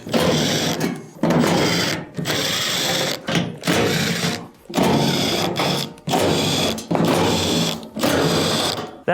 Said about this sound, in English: Then we'll go around and remove all the screws.